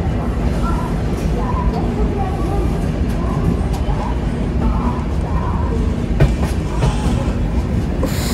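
A Duronto Express rolls slowly near Kharagpur, heard from inside with a steady loud rumble and faint rhythmic clatter of wheels on rails, while muffled voices murmur in the carriage.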